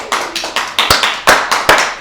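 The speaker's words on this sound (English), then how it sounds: "Let me hear some claps." A small live crowd claps in several separate sharp bursts, loud and close, with short gaps between each round of applause and no voices over it.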